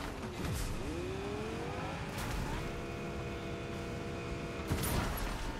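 A fast car driving in Fortnite, its engine rising and falling in pitch as it accelerates and shifts, with brief whooshes or skids at intervals, loud and close with no voices.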